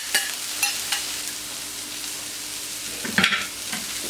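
Sweet potato and zucchini pieces fry and brown in a pan with a steady soft sizzle, broken by a few stirring scrapes and clacks of a utensil, close up and without talk.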